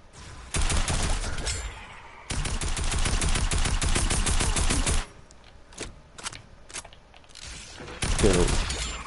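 Rapid automatic gunfire from the Fortnite video game rattles out in loud, sustained bursts, with a quieter stretch of scattered single shots before another heavy burst at the end.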